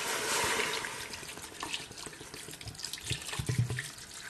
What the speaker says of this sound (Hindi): अब इसके अंदर पानी ऐड करूंगा।